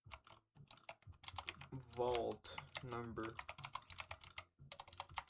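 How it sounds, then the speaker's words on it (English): Rapid typing on a computer keyboard, dense close clicks and key taps in quick irregular runs, with a person talking over the keystrokes partway through. "You might be hearing all the keyboard clickety clack clack."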